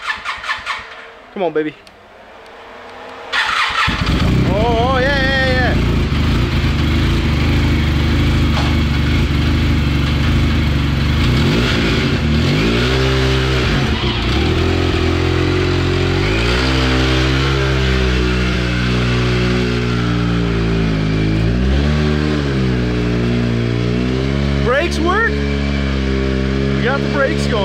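A 300 hp Wildcat 4X side-by-side engine cranks after a short quiet stretch, catches and fires up, then idles loudly and is revved repeatedly in rising and falling surges up close. Someone speaks briefly near the start.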